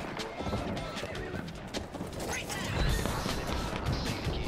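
A horse in a dark assault map of a video game gallops with rapid hoofbeats and gives a whinny, with crashing game noise mixed in at close, moderate volume.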